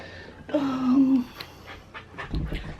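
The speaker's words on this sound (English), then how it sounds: "Oh my gosh, my dog." A pet dog vocalizes nearby, a short whining, panting sound in a home, followed by soft rustling and a low thump.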